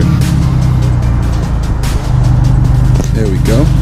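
A BMW 1 Series E87-era hatchback engine cranks and runs loud and close, a steady low rumble filling the whole moment with a brief chirp near the end.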